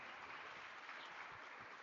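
Steady applause from an audience at a formal keynote lecture on civic education policy, dense continuous clapping at moderate level with no voices over it.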